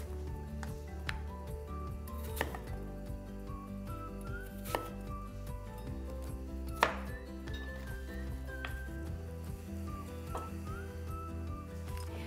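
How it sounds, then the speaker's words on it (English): Knife chopping fruit and vegetables on a cutting board for homemade baby food purees, a steady series of sharp taps and thuds close by, a few louder strikes standing out against a faint background hum. "if you watch me cut some fruits and vegetables here"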